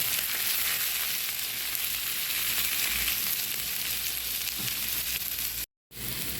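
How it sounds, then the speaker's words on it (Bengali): Eggplant and potato fry in a pan with lightly browned onion, giving a loud, continuous close-up sizzle that holds steady and briefly cuts out near the end. "বেগুন আলু দিয়ে পেঁয়াজ একটু ভেজে নেব"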